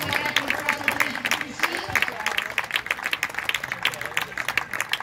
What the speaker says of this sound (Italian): facciamo un applauso per il